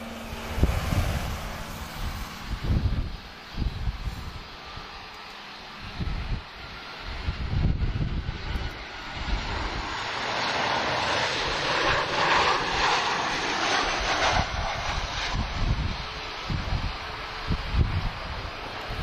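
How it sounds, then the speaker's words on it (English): A Ryanair airliner lands in a crosswind at Lisbon Airport, its engines roaring continuously, swelling loud and then settling into a long sustained rumble with gusty wind noise buffeting the microphone. "Nice job there from Ryanair in the crosswind."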